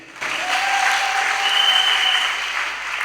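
A church congregation breaks into sustained applause, dense and even clapping filling the room for about three seconds before easing off slightly.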